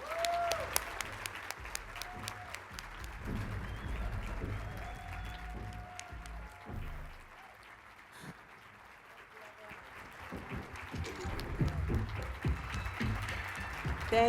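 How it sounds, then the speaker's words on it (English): A large audience at an LGBTQ+ leaders conference gives a long standing round of applause, dense rapid clapping that swells, dips in the middle and builds again, with a voice speaking over it. "So would you all please stand up and give a round of applause"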